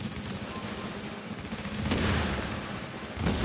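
Rapid gunfire in a PvP shooter game crackles in dense bursts, with louder volleys partway through and near the end, fairly close and harsh.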